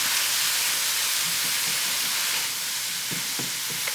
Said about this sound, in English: It's just steaming and just kind of deglazing the pan with the water and the juices.